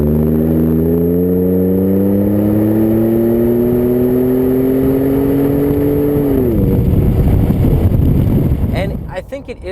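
Ford F-150 pickup with an aFe cat-back side-exit exhaust accelerating under throttle, a loud droning engine note climbing steadily in pitch, then breaking into a rougher roar as it shifts, with wind noise near the end.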